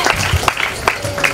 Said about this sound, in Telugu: కమన్ క్లాప్స్ కొడదాం వాళ్ళకి